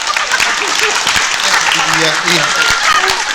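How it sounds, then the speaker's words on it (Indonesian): Studio audience at the Indonesian talk show Satu Jam Lebih Dekat, standing and clapping in a steady dense burst, with voices calling out and talking over it throughout. "Berdiri dan tepuk tangan."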